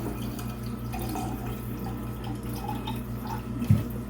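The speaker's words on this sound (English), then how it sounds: "I'm going to fill this with water" Tap water runs steadily into a canner being filled for canning turkey, a constant low gush with a brief louder splash near the end and no talking.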